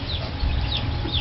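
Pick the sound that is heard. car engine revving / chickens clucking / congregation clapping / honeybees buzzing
chickens clucking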